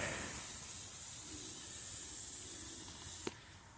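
A pump sprayer mists a Little Miss Figgy fig plant with a white sunscreen coating. It makes a steady, close hiss for several seconds, then a short click near the end.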